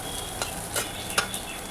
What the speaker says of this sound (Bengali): ভাজা হচ্ছে চিংড়ি মাছ।